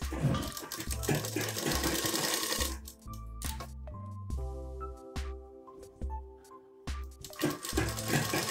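Electric sewing machine stitching the side seam of a multi-panel palazzo, running in short bursts with pauses between, close and fairly quiet, with no talk.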